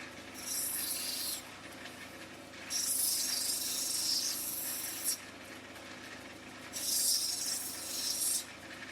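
A grinding wheel rasps sandy matrix off the edge of an opal in three long, steady bursts of hissing abrasion, close and fairly loud over a constant motor hum, with brief pauses between passes.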